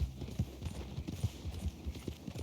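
A horse's hooves clip-clop at a steady walking pace in a bounty-hunting video game, close and distinct, each footfall a hollow knock over a soft background.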